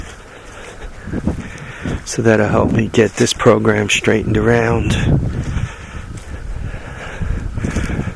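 Gusty outdoor wind buffets the microphone in a snowy setting, a low rumbling roar that swells and fades beneath someone talking close up.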